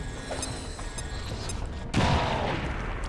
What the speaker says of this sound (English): I'm gonna throw that frag grenade out.